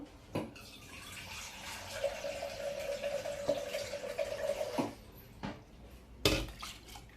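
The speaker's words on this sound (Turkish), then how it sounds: "Arkadaşlar suyumu döküyorum. Az bir şey daha su koyuyor." Water poured into a cooking pot for grape pepeçura: a steady gurgling stream rings for a few seconds, framed by clanks and knocks of the pot and utensils, close by, with no talking.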